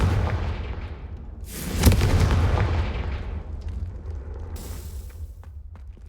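A Confringo spell explosion in the Hogwarts Legacy video game, a loud booming blast that swells, peaks with a sharp burst, then rumbles and fades over several seconds.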